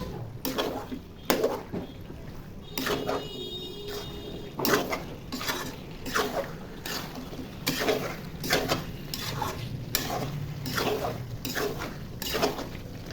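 Chicken stirred in a pot with cardamom powder, repeated scraping and clattering of a spoon against the metal pot in an uneven rhythm, with a soft sizzle underneath, close and fairly loud.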